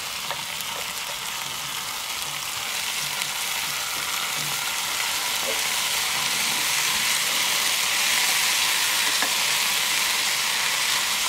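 Asparagus fries in a pan for a curry with a continuous, even hiss and sizzle that holds steady from start to finish, with faint scattered pops.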